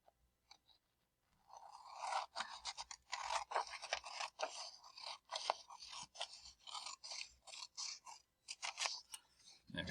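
Scissors snip through paper near the top of a sheet, a run of close, crisp rasping cuts that start after a quiet second and continue in quick bursts without pause.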